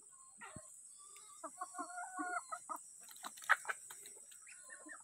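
Texas rooster on a small poultry farm clucking in a series of short, close calls, moderately quiet, with a steady background hum and little talk.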